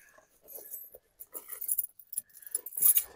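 A bunch of car keys jangling near a Jeep Grand Cherokee ZJ, several quick metallic clinking bursts in short uneven clusters, close and fairly quiet.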